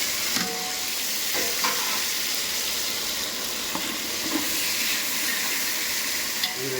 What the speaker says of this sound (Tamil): இதில் 1 லிட்டர் எண்ணெய், 2 கிலோ வெங்காயம், கொஞ்சம் பட்டை வகைலாம் போட்டு வதக்கிருக்கேன்.